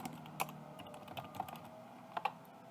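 Computer keyboard typing, a light scattered run of key clicks with a few sharper taps, close and fairly quiet.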